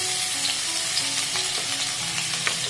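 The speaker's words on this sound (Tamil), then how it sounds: "எண்ணெய் சூடானதும் இதுல நம்ம கட் பண்ணி வச்சிருக்க வெங்காயத்தை ஆட் பண்ணிக்கலாம்" Chopped onions fry in hot sesame oil for a tomato chutney, a dense, close, continuous sizzle and crackle with faint stirring and no voices.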